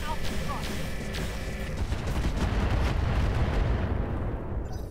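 Mech weapons fire in the strategy video game Roguetech as a dense, rumbling barrage of booms and impacts. It stays loud and continuous, with faint talk underneath at the start.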